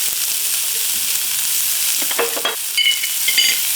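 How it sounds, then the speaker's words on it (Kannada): Vegetables being stir-fried and mixed in a hot pan: a continuous bright sizzle with scraping and clattering strokes of a spoon against the pan, close and loud, with no voices. "ಜಸ್ಟ್ ಈ ಥರ ಮಿಕ್ಸ್ ಮಾಡ್ಕೊತ ಹುರ್ಕೋಬೇಕು"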